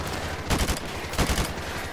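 Two short bursts of automatic gunfire in Call of Duty Modern Warfare rattle out, each a cluster of quick shots, over a steady background hiss at moderate loudness.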